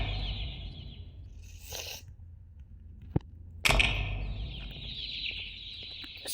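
Clucking and chirping bird calls from the Garten of Banban 2 video game, with a sharp click and a burst of sound midway, moderately loud and continuous without speech.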